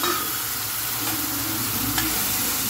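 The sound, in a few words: onion and garlic frying in oil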